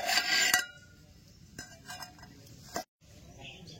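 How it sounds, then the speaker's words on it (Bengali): Potatoes go into a pot of boiling rice in a rural village kitchen, with a few sharp clinks and knocks of metal pot and utensils spaced over a few seconds, followed by a brief silence. "চলেন এবার ভাতের মধ্যে কটা আলু সেদ্ধ দিয়ে দিই।"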